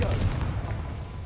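A Confringo fire spell blast in Hogwarts Legacy hits as a heavy, close boom, then decays over about a second into a low rumbling tail.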